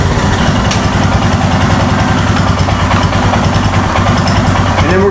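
A Royal Enfield Himalayan motorcycle engine runs close and loud, a steady throbbing rumble that holds an even level for the whole stretch.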